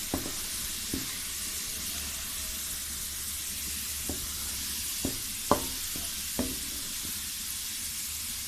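Onions and tomatoes go into a pan of frying garlic for karela and chana dal, giving a steady broad sizzle with a few sharp clinks and spatters over it.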